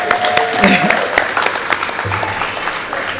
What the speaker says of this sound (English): So we need to give you a round of applause.